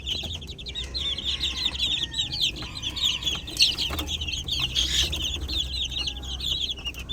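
Backyard chickens cluck steadily in a dense flock chorus, with a rooster among them, the busy repeated calls close and continuous with no one speaking.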